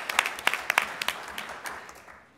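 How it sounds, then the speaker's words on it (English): Scattered, faint hand claps from a convention plenary audience tap out irregularly over a couple of seconds and thin out quickly, with no other sound beside them. "let's give her a round of applause"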